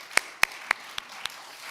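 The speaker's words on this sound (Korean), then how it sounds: "우리 이사랑 목사님께도 우리 박수 한번 하겠습니다." Someone in a church service claps a few times, five sharp separate claps at a slow, even pace, quiet and close, with no crowd applause behind them.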